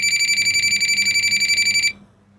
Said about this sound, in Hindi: जब हम फेज़ पे लगाएंगे तो ये बीप करेगा